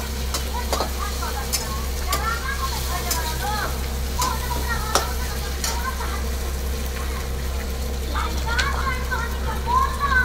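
Onions frying and being stirred in a pan give a steady sizzle with scattered scraping strokes over a constant low hum, with faint voices and chirps in the background.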